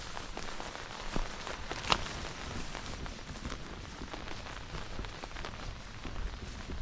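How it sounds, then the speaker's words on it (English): A tropical storm brings steady rain down on a mountain campsite with a tarp shelter. The rain makes a continuous close hiss with occasional sharper drops, and no one speaks. "We're out here in the rain"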